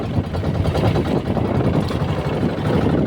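A fishing boat's engine idles, out at sea on a trip netting ribbonfish, as a dense, steady low rumble with rapid even pulsing that stays close and constant throughout.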